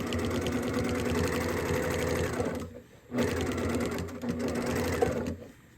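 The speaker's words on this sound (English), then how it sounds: "I just sew it over a pin when I'm not supposed to." A sewing machine stitches a fabric zippered bag in two long steady runs of rapid mechanical whirring, with a brief pause between them, close and loud.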